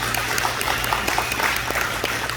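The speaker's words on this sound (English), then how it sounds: "So a round of applause for yourselves" Steady, dense applause from members gathered at a fitness center anniversary celebration, an even wash of many hands clapping that holds without pause, with a low hum underneath.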